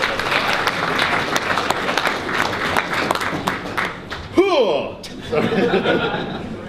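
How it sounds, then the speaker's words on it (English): A crowd at a video game trivia challenge at PAX Australia claps and cheers in a dense, loud wave, then laughter and chatter take over as the applause fades. "Round of applause."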